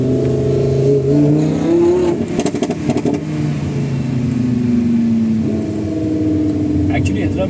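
A Lamborghini in sports mode revs and accelerates through traffic, its engine droning loud and near, rising and falling in pitch while someone talks over it throughout.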